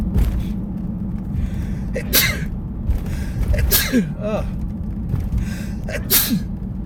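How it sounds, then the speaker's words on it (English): Three sharp bursts from a person, each a quick breathy inhale-and-blast like sneezes, close up over a low steady background hum. "I got a sneeze coming"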